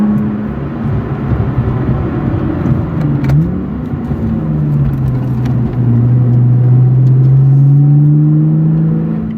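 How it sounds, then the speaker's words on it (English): Cabin of a Lotus Evora S on the road, with a loud, steady low rumble of tire and road noise and engine drone, rising and falling slightly with speed, no voices. "a little bit of the normal tire road noises that you hear in just about any car"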